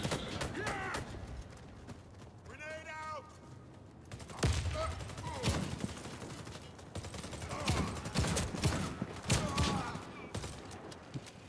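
Gunfire from the shooter video game Warface comes in rapid bursts of shots, some closely spaced like automatic fire, with someone talking between and over the volleys.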